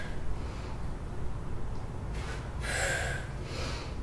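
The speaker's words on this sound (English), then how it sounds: "Exhale." A forceful exhale during a dragon flag exercise on a bench, heard as a couple of airy breath bursts, the strongest near the end, under steady background hiss with no talking.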